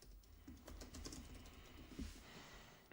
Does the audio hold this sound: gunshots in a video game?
no